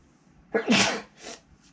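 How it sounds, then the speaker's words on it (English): A single close sneeze with a sharp intake and burst, followed by a smaller second sneeze-like exhale, in a quiet room. "Got a bunch of sneezes"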